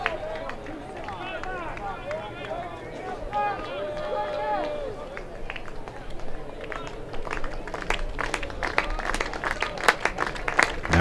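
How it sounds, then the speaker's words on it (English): A baseball crowd at a Florida Gators home game builds its rhythmic two-strike clap, many hands clapping together and growing louder and denser, while a commentator talks over it. "The Gator 2-strike clap getting louder"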